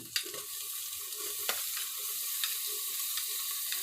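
Onion, tomato and carrot frying in oil in a pressure cooker for khichdi: a steady, close, even sizzle with a few soft stirring knocks throughout, with no voices.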